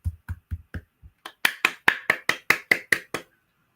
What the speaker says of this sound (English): I'll give it some claps for that